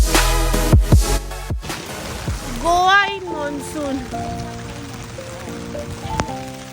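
Rain falling outdoors in Goa while people walk through it, a steady patter of drops on surfaces under tonal background sounds and distant voices.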